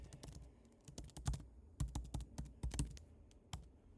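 Typing on a computer keyboard, a close, steady run of quick key taps with short pauses and a few heavier strokes, alone with no talking.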